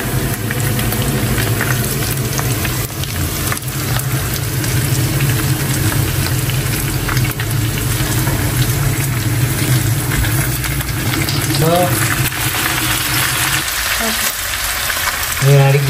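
Mackerel frying in a pan with golden onions for a fish curry, a loud continuous sizzle and crackle close by, with a steady low hum underneath and a few faint tonal chirps near the end.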